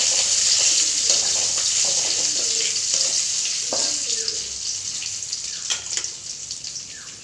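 Garlic sizzling in hot oil as a tempering for kosala saag raita, a steady bright hiss that holds throughout, with faint clinks of stirring underneath.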